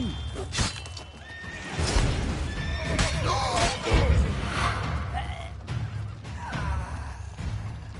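Horses whinny and snort repeatedly amid hoof clatter and thumps in the video game The Witcher 3, with a busy, lively background throughout.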